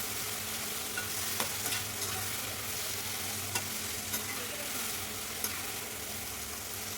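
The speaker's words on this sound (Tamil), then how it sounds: "இப்போ இதுலேயே நம்ம ஃப்ரை பண்ணி வச்சுருக்க பாவக்காவையும் ஆட் பண்ணி நம்ம நல்லா வதக்கி எடுத்துக்கலாம்." Fried bitter gourd sautéed with tomato and curry leaves in a pan, giving a steady close sizzle broken by occasional sharp scrapes and taps of a spoon stirring, with no voices.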